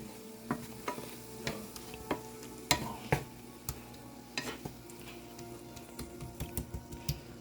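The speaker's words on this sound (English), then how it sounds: "I'm gonna use it to stir this around" A utensil stirs lemon tomato buttered chicken in a pan, with scattered sharp scrapes and clicks over a quiet, steady sizzle, close and fairly soft.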